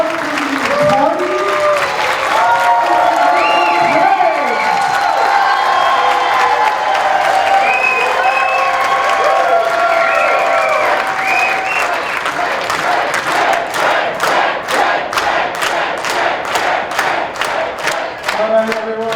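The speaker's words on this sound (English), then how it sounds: "I want everyone to get a good round of applause for the party." Convention crowd at a live improv Dungeons & Dragons show at C2E2 2025, loud sustained cheering, whoops and shouting voices over continuous applause, with clapping growing more distinct and rhythmic toward the end.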